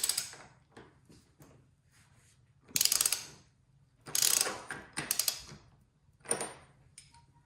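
Ratchet wrench loosening the 30mm fork top caps on a Triumph Daytona 675, several bursts of rapid clicking separated by pauses, close and clear with no talking.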